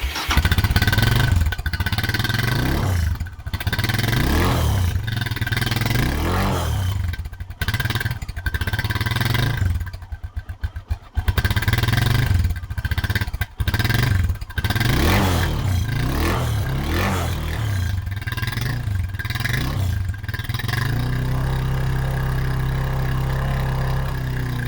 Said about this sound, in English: let's start the bike up. It's a great sounding bike.